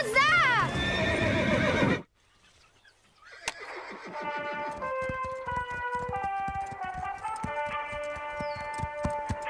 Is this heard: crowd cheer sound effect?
no